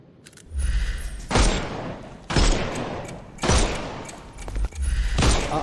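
Gunfire in the Sherlock Holmes: Chapter One video game blasts at enemy armour: four or five loud, dense bursts of shots and heavy impacts, each lasting nearly a second, separated by brief quieter gaps.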